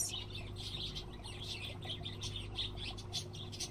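Lovebirds in a pet shop in Exotica: Pet Shop Simulator chirp in a steady stream of high, overlapping tweets over a constant low hum of in-game ambience, with no talking.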